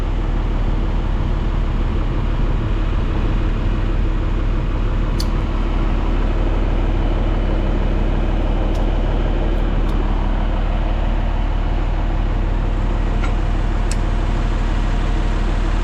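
A tractor engine used for raking hay runs steadily nearby, a constant low rumble with faint clicks and rattles on top, and no voices.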